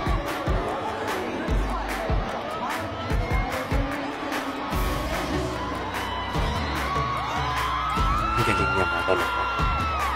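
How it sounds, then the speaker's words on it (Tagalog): A large Miss Universe pageant crowd in Iloilo City cheers and screams loudly and continuously, with shrill whoops and roaring swells, while voices talk over the din throughout. "Grabe yung sigawan."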